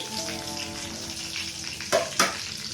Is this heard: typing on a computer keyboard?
no